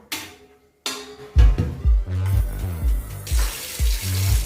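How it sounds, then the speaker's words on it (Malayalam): Water runs from a kitchen tap into a pot being filled for boiling rice for Malabari chicken biryani, a steady close splashing stream that starts after a brief pause and builds as the vessel fills. "അരി തിളപ്പിക്കാനുള്ള വെള്ളം എടുക്കാം."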